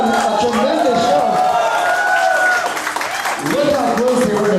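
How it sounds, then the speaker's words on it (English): An audience applauds and cheers at a speed eating contest, with crowd noise beneath a loud amplified announcer talking over it throughout. "Round of applause. These guys put on a tremendous show."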